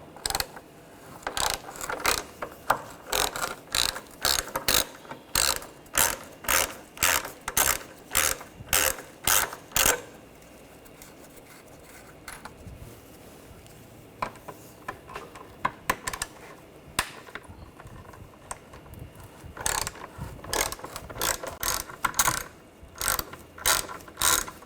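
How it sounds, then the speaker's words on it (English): Ratchet with a T30 socket backing out screws on a 2013-2019 Ford Escape 2.0L front end, loud rapid clicking bursts repeating in runs with short pauses between, close and alone. "Using a T30 socket, take these screws out."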